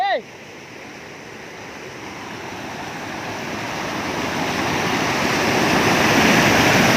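Steady rushing water roars continuously and grows slightly louder, a broad wash of noise like falling water nearby, at Tad Houakone waterfall, Lamam district, Sekong province, southern Laos.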